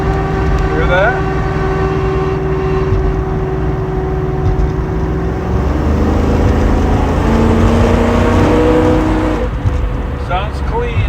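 Ford Mustang engine with a steady tonal whine over a constant engine drone, running at a fixed RPM. The whine drifts and shifts in pitch partway through, and a person talks over it.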